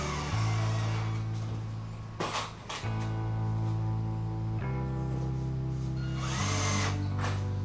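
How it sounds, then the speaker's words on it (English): A power drill drives screws into a wooden target stand, whirring loudly and steadily close by, with brief pauses and shifts in pitch between runs. "Throw a few screws in here."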